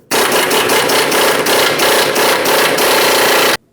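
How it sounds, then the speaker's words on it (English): A power tool on a 30mm socket hammers off the ball joint mounting nut at the lower control arm of a 2015-2025 Ford Transit-250, giving a loud, steady rapid rattle with pulsing bursts for about three and a half seconds, then stopping. "We'll use a 30mm socket to remove our mounting nut."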